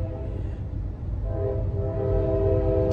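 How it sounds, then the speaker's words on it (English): Steady rumbling rail noise from inside a moving train, with a sustained horn tone sounding alongside the rolling clatter and growing louder toward the end. "I'm in a train. So if you can hear that, I apologize."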